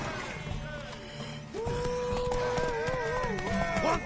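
Horse hooves clip-clopping in The Witcher 3 video game, a quick galloping rhythm under a neighing horse, shouting voices and swelling orchestral music, fairly close and busy.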